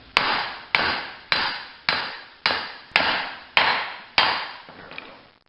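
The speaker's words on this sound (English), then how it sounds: "give just a couple taps just to start it" A hammer strikes a socket set over wheel hub splines to start removing a front-wheel-drive hub, eight loud, evenly spaced metallic taps about half a second apart, each ringing briefly, close and with no voices.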